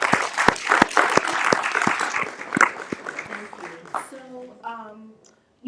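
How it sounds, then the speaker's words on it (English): A small audience at a community discussion circle claps in brisk, close bursts that thin out after a few seconds, then a voice speaks as the applause fades. "So I just want to applaud Neil."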